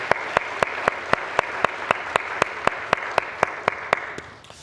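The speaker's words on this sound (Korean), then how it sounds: "오늘 이렇게 함께 예배하게 하신 우리 하나님께 우리 영광의 박수 올려드리십시다" Church congregation clapping in unison during Sunday worship, a steady rhythmic beat of sharp, evenly spaced claps over a warm room wash, fading out at the end.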